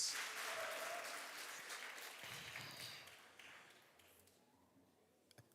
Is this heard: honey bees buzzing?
no